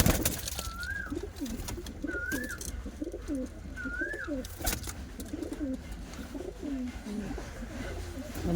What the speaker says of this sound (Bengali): প্রতিটা কবুতর খুবই সুন্দর কোয়ালিটির কবুতর রয়েছে।